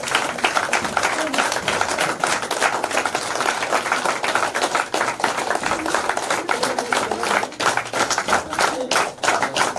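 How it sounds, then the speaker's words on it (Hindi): A crowd at a gathering in Mount Abu claps to welcome a guest, a continuous, loud patter of many hands that does not let up, with a voice speaking over the top. "तालियां रुकना नहीं चाहिए।"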